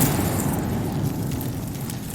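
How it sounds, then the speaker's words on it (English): A muffled, sustained explosion rumble from a music video playing in the background, a low, steady roar lasting the whole moment at moderate distance. "An explosion."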